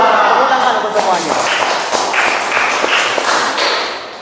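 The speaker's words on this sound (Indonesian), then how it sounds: "Tepuk tangan untuk semuanya." Students in a vocational school class clap in unison, a series of sharp, evenly spaced claps at a steady rhythm, loud and close, with voices mixed in.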